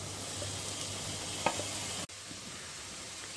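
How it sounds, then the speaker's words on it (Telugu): Mint and foxtail millet rice sizzle in a pan while being stirred, a steady close frying hiss with a sharp scrape of the spoon midway. "రెండు నిమిషంలు కలుపుతూ ఉడికించుకోవాలి."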